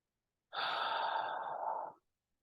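A single long, slow exhale during a guided visualization exercise, close and breathy, lasting about a second and a half before fading to silence.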